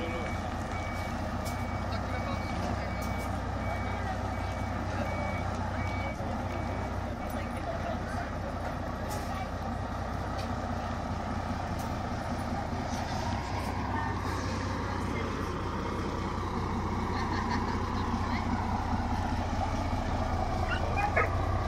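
A converted coach manoeuvres in reverse, its reversing beeper sounding in a steady repeating pattern over the low rumble of the engine, while people talk nearby.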